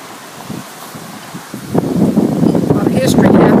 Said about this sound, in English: Sorry, it's real windy.